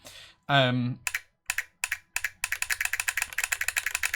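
A keyboard fitted with a solenoid fires a loud sharp mechanical clack for each keystroke, first in a few separate hits, then in a fast even rapid run. A brief voice-like tone opens it.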